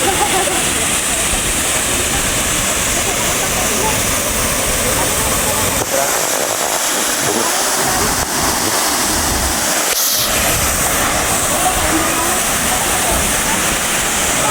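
Inambakan Falls in Ginatilan, Cebu, a waterfall that roars as a steady, loud broadband rush of falling water throughout, with faint voices partly buried beneath it.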